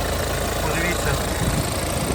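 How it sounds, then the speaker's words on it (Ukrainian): A Hyundai Santa Fe 2016 2.2 CRDI diesel engine idles with a steady, low hum and faint mechanical rattle, unchanging throughout the short stretch. "Двигун працюється чітко."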